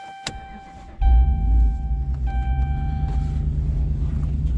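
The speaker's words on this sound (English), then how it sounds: "you'll hear some road noise in it" Steady low rumble of a 2009 Hemi 1500 TRX4 truck cruising on a highway, with a few faint clicks and tones early on before the road noise swells and holds.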